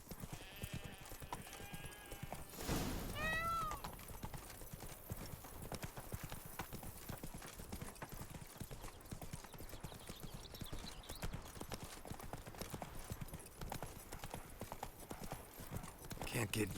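Hooves of Geralt's horse Roach pounding in a fast, continuous gallop in The Witcher, loud and close, with a whinny near the start and game music or ambience layered underneath.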